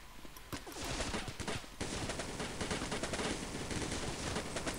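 Pistol shots crack in a Counter-Strike match, a few scattered shots at first and then dense, rapid overlapping gunfire that continues for several seconds.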